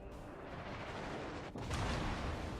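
Incoming gunfire strikes a ship in a naval battle game, a continuous loud roar of artillery fire that briefly dips, then surges back louder.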